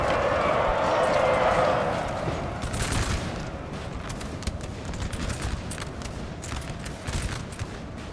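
A ragged musket volley rolls across a large Napoleonic battlefield in Napoleon Total War, set in the Battle of Wagram. Scattered crackling shots continue over a dense battle din, and someone talks over the noise.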